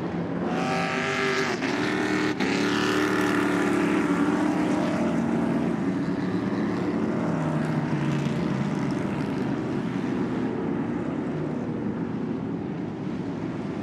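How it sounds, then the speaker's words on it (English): Sportsman-class race cars roar around a track at Crandon, Wisconsin under green-flag racing, a loud, sustained blend of several engines rising and falling in pitch as they pass, with no talk over it. "we're back underway, green flag racing"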